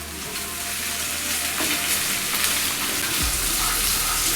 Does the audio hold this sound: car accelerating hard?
no